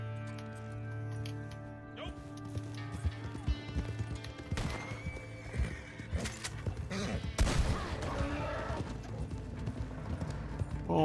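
Horse hooves clip-clop and a horse whinnies in the Red Dead Online western video game, with steady hoofbeats over a low rumble and music, plus a few sharp gunshot-like cracks partway through.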